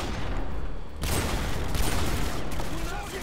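Gunfire in Call of Duty Modern Warfare 2 crackles in dense, rapid bursts, a loud fusillade of overlapping shots that surges after a quieter opening second and keeps rattling to the end.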